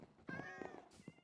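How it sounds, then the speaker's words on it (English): Minecraft cat meowing, a few short, clear meows in quick succession, quiet and close. "These are all cats that I've gotten from the iron farm."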